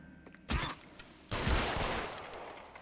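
Gunfire in the video game L.A. Noire, two loud bursts of shots, the first short and the second longer and decaying, with quiet gaps around them.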